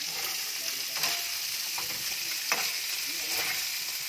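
Meat toasting in a pan for kimchi fried rice sizzles and crackles steadily at a soft level, with a few sharper scrapes and clicks of stirring scattered through.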